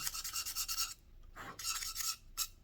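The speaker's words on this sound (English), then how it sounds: "So you just take some sandpaper, you just sand it like this" Sandpaper sanding a table tennis paddle blade, quiet rhythmic rasping strokes in short back-and-forth bursts with brief pauses, close and alone.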